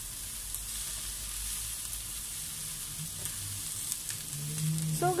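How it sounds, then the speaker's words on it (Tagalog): Green beans sizzle in a pan alongside fried pork belly for adobong sitaw, giving a steady close frying hiss, with soft stirring scrapes building louder toward the end and no voices. "ilalagay na natin ngayon ang ating green beans. Saka natin siya haluin."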